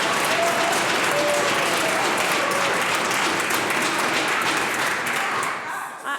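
Sustained applause and desk-thumping fill a legislative chamber during question period, a dense, loud wash of clapping from many members that holds steady and then thins out near the end.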